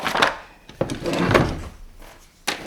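A wide, heavy Blum Legrabox office drawer being handled, with a sharp knock at the start, another bump, a sliding rumble through the middle and a final clack, close and fairly loud.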